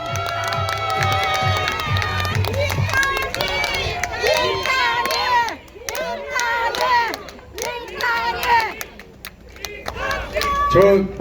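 A crowd cheers, shouts and claps at an outdoor election campaign rally in a Monday market in Gumi, with loud, busy voices, tonal sound and bursts of noise running throughout.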